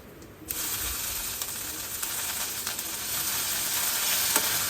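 Ghee sizzles and crackles steadily in a hot pan while cooking spinach coriander rice, starting abruptly and holding a bright, continuous hiss close by.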